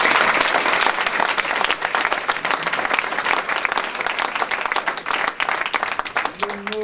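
A crowd at an evening track-cycling gathering in La Roche-sur-Yon applauds loudly and densely, a sustained roar of clapping that tapers slightly before a voice briefly comes in at the very end.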